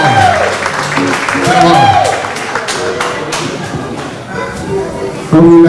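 A live audience at a Kwanzaa celebration in San Francisco applauds a band, a crowd-wide clatter of clapping under a voice urging them on, with cheering mixed in.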